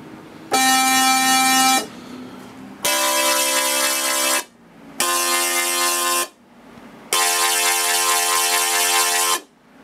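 A musical Tesla coil sounding four loud, buzzy, harsh sustained notes of different pitches, each lasting about one to two seconds and separated by short gaps, close and alone.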